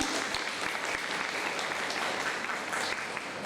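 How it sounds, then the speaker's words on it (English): Round of applause from the audience at a linguistics masterclass, dense steady clapping from many hands throughout, fairly close and unbroken, with no speech over it. "Can we get a round of applause for both of them?"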